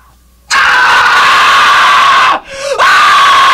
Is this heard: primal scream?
yes